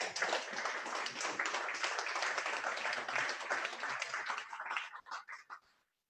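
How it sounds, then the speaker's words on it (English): Audience clapping at the African Development Bank Group swearing-in ceremony for its president-elect: a dense, steady round of applause that thins out and trails off into a few last scattered claps before silence. "I thought somebody will clap"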